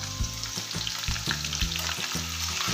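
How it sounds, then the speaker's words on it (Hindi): Garlic, ginger and green chilies frying in hot oil in a pan for chicken handi, a steady close sizzle with a few stirring scrapes, no talking. "इसको एक मिनट के लिए फ्राई करेंगे।"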